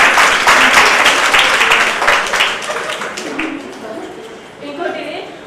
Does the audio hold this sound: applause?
yes